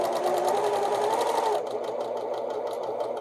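A Janome HD9 Black Edition sewing machine runs a tight straight stitch on straps, a close, steady mechanical whir that shifts to a lower, rhythmic pulsing partway through, with no talking.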